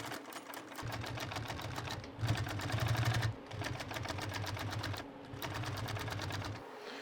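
A sewing machine stitching across firewood sling loops, running in several rapid rhythmic bursts of needle clatter with short pauses between, close and clear.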